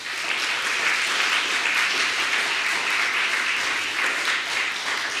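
An audience breaks into sustained applause to welcome speaker David Shulman at a lecture, a dense, steady wash of clapping that holds at full strength throughout without easing off.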